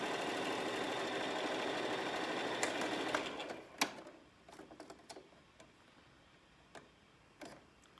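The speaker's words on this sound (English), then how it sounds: "One of these edges here, we're going to fold it in and sew so that it's a nice clean edge at about 1/4 of an inch" A sewing machine hums steadily while stitching a folded fabric edge for a face mask, then stops, followed by scattered soft clicks and handling taps, nearby and moderately quiet.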